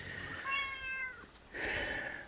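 A domestic cat meows twice, close and clear, with a short pause between the two drawn-out calls.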